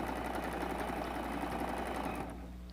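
Sewing machine quilting through a patchwork apron top, a fast steady mechanical whir and needle chatter running loud and continuous, then easing slightly softer near the end, with no talking.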